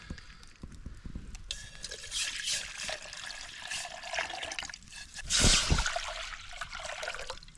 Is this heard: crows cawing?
no